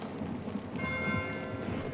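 Steady rain hisses and patters in the video game Pentiment, with a faint ringing bell tone drifting in midway, all quiet and continuous with no voices.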